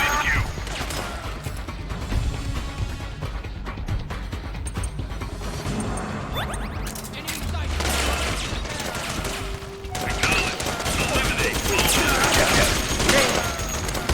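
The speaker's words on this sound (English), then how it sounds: "that is the fucking turret doing that much damage" Heavy turret gunfire in Metal Gear Solid 4 pounds steadily for the whole stretch, dense and loud, with clanking mechanical and crashing impacts mixed into the barrage.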